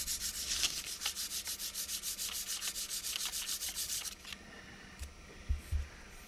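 Wooden diorama model's window openings being sanded by hand, a rhythmic series of close rasping strokes for about four seconds, then a pause with a few faint knocks and handling sounds.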